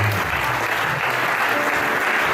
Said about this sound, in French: applaudissons le Seigneur.